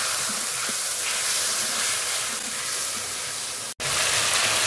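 Spices fry in oil with salt, turmeric and a splash of water while cooking a singhi fish curry, making a steady, loud, continuous sizzle and hiss close by, broken only by one brief instant of silence.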